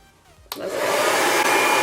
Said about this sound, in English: when I'm blow drying